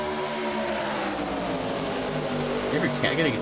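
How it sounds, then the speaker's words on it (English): Race cars in a stock car racing video game at Talladega drone loudly and continuously, their engine tones wavering and sweeping in pitch as cars pass close by. "the cars are still really loud"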